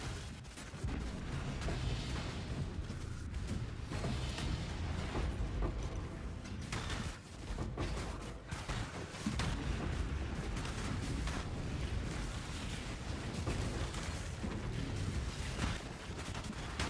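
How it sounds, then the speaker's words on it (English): Video game explosions fill the screen in dense, continuous booming bursts, rumbling and crackling without pause for about seventeen seconds, loud and chaotic with overlapping blasts, no talking. "I run and the whole screen explodes with explosions."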